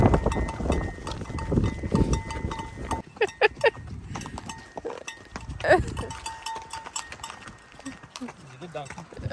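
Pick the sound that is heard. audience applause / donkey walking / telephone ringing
donkey walking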